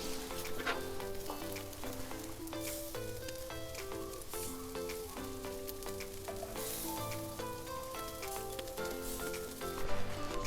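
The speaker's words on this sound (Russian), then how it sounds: "Сначала запечатываем с двух сторон, ну а потом крутим-вертим, дожариваем." Caucasian-style shashlik, meat skewers marinated in red wine, sizzles over a grill with a continuous, fairly quiet crackling hiss and scattered pops throughout.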